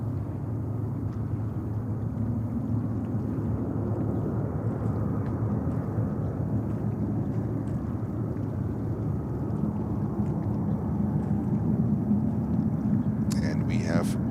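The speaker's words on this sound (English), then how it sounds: "beautiful takeoff of this ANA 777-300 to Tokyo" An ANA Boeing 777-300 bound for Tokyo takes off at JFK airport, its steady, broad jet roar holding loud and even throughout, with a brief rattling hiss near the end.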